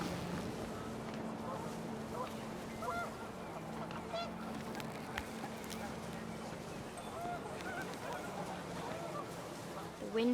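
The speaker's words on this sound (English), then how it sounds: "The wind picked up and panicked geese appeared and quickly went." Geese honk as they take flight in the video game What Remains of Edith Finch, a steady flurry of calls over continuous wind and ambient noise, with a louder burst right at the end.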